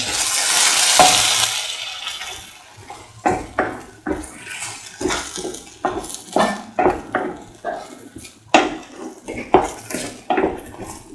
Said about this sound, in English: onion, shallot, fennel, caraway mixture. Saute and mix.